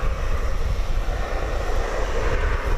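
A UPS cargo plane at DFW Airport roars steadily with a broad, loud engine rumble heard from fairly close, alone and without talking.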